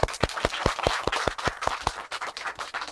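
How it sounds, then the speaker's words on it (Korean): A small audience at a Buddhist lecture gives a brief burst of hand clapping, a few sharp, closely spaced claps in a quick, uneven rhythm, fairly faint and soon dying out. "박수!"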